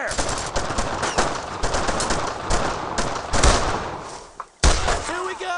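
Rapid automatic gunfire and rifle shots from the World War II video game Brothers in Arms: Road to Hill 30 clatter loudly and almost without pause, with shouted voices of soldiers mixed into the firefight and a short gap near the end.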